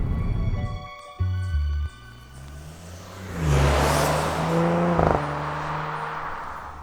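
A 2019 Audi RS5 Sportback's engine sound, piped into the cabin and meant to emulate the outgoing V8, rises loud and near through rev changes and gear shifts, with steady road rumble underneath.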